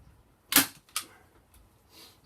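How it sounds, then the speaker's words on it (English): A staple gun fires a staple into a wooden canvas frame, one sharp crack followed by a smaller snap, close and alone against quiet. "and bang a staple in it."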